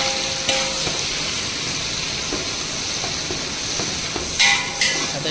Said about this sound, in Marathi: आवाज येता बघा चरच. आता कांदो टाकणार.